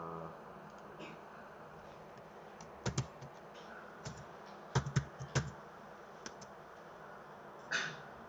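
Sparse, quiet keyboard clicks: scattered single taps and a few short bursts of typing on a computer keyboard, close up in a quiet room with no talking.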